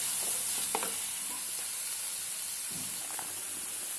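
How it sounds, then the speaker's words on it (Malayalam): Ginger, onion and carrot sautéing in coconut oil give a steady broadband sizzle throughout, with a few scraping stirs of a utensil in the pan close by and no talking. "ഇഞ്ചിയൊക്കെ ഒന്ന് വഴറ്റിയെടുത്താലോ."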